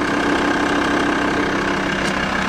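A 2003 Volkswagen Transporter van's 2.5 TDI diesel engine idles steadily, a close, continuous rough clatter with a faint knocking edge and no voices.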